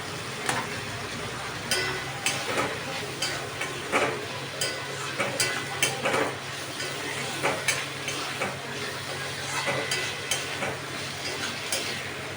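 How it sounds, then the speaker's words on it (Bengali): Soybean chunks stir-fry in spice masala for a potato curry, a low steady sizzle broken by regular clacks and scrapes of a spoon against the pan, close up. "এর মধ্যে সোয়াবিনগুলো আমি ঢেলে দেবো দিয়ে একসাথে মশলাটাকে আমি কষাবো"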